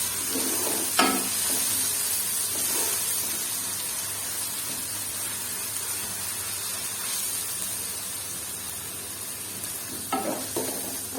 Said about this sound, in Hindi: लहसुन अदरक को हम ब्राउन करेंगे, लाइट ब्राउन करना है हमें।